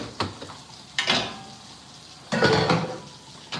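Dishes clatter and clink during a house-cleaning session at home, in a few short bursts of knocking crockery with quieter gaps between them and no talking.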